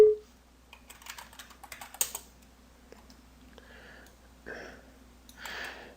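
Light typing on a computer keyboard during a Windows 7 command prompt setup for an Apache 2.4 server: scattered soft key clicks, with a couple of brief louder bursts, recorded close and alone.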